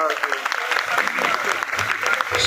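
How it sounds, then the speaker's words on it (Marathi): A gathering at a Buddhist ceremony near a statue claps together in a continuous, full round of applause, with some voices mixed in beneath the clapping. "टाळ्या वाजवा, मोठे टाळ्या वाजवा"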